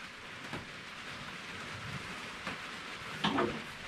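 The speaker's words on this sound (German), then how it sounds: "Ist halt so mal durch den Regen." Rain falling steadily outdoors, a soft, even hiss with a few brief louder patters, heard alone without voices.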